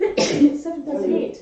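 A single sharp sneeze close to the microphone, quickly followed by people talking.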